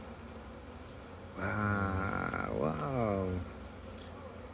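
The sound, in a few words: honey bees buzzing at an open hive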